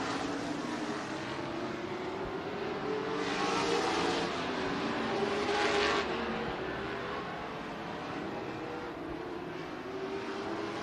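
Open-wheel modified race cars lap a track during warm-up before a heat race, a steady engine roar with a rising pass-by swell midway, moderately distant and continuous, no voices.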